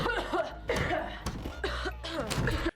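A woman coughs repeatedly, harsh and close, in four or five rough bursts separated by brief pauses, with a low rumble underneath.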